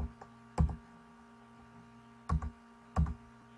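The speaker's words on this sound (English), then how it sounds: "we can use either the mouse clicks or the right and left arrow" Three sharp computer keyboard or mouse clicks used to change slides, spaced unevenly over a quiet steady hum, close and distinct.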